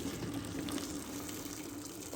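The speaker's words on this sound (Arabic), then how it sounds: "غنديرو داك الاطرو ديال الماء مغلي" Boiling water is poured into a pot over half a kilo of dates, giving a steady, continuous splashing gush at moderate level with no talking.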